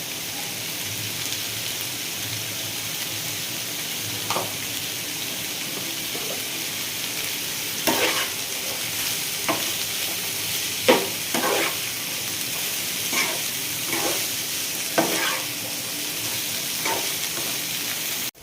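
Ivy gourd (dondakaya) pieces with turmeric frying gently on low heat, a soft continuous sizzle punctuated by repeated spatula scrapes and taps in an irregular rhythm, no talk.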